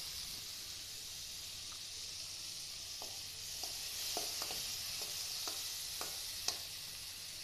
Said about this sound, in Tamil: ரசம் பாருங்கள் எப்படி பால் பொங்குற மாதிரி பொங்கி வருதுன்னு